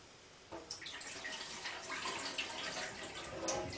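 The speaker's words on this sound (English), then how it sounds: "when you pour the water in really fast, that just helps to bring the kind of rice dust that's in there up to the top" Rinsing water is poured quickly into a rice cooker pot and tipped off again, a soft, close splashing and sloshing of water over rice that keeps going steadily and faintly.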